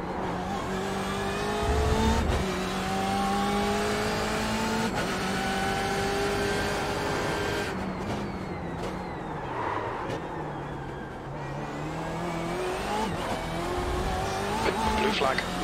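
Race cars lapping Suzuka in iRacing, a BMW M8 GTE with faster LMP1 prototypes closing in, their engines droning and shifting pitch steadily throughout, loud and continuous, with a voice talking over the top.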